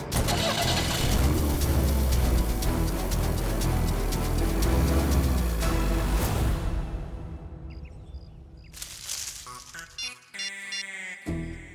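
A car engine starts up and runs loudly for several seconds, then fades as the car pulls away. Quieter, scattered sounds and birdsong follow in the open surroundings.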